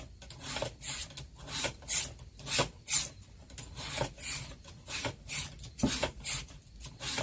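A Mossy Oak fillet knife is drawn repeatedly through a V-slot sharpener from tip to heel, making a steady series of close, gritty rasping strokes in a regular rhythm.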